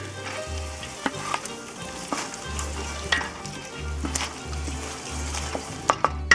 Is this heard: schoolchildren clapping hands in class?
no